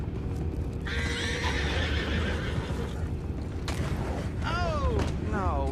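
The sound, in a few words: horses neighing, from the video game Red Dead Redemption 2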